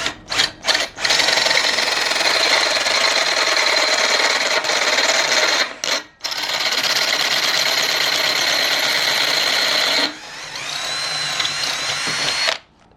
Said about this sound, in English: I had to switch to a Colbalt drill bit. This metal is pretty hard